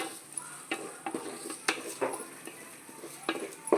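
Masala being stirred together with rock salt in a bowl at home, giving soft scraping and clinking taps of a spoon against the bowl in an irregular rhythm, close and fairly quiet, with no one talking.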